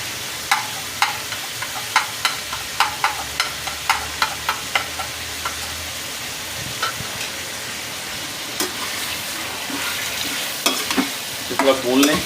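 Chicken karahi stirred and fried in a pan with salt added, a spoon scraping in a steady series of sharp clacks over a constant sizzle, the strokes thinning out and then bunching again near the end.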